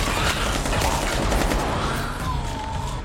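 Rapid volleys of gunfire from a zombie-drama TV episode play as a dense, continuous crackle of shots lasting about three seconds, fairly loud throughout.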